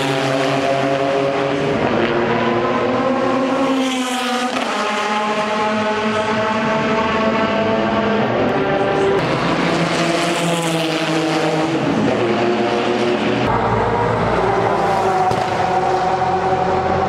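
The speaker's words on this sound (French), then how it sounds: "ce sont les voitures des années 2000 qui roulent" Race cars from the 2000s lap a circuit near the pit area, engine notes rising and falling in pitch as several cars pass one after another, loud and continuous throughout.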